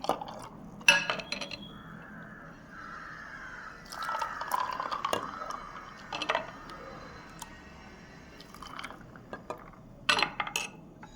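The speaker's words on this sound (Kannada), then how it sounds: "ಆಗಲೇ ಮಿಕ್ಸಿ ಮಾಡಿರ್ತಕ್ಕಂಥ ಜ್ಯೂಸನ್ನು ಹಾಕ್ಕೊಳ್ತೀನಿ" Freshly blended lemon juice is poured into a glass, making a bubbling, trickling fill with a few clinks of glass and utensil, close and quiet with no talking.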